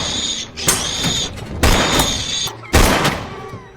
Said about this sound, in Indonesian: Bosman yang mendengarnya dengan senang hati lalu mengarahkan senjatanya dan menembak ke arah makhluk itu.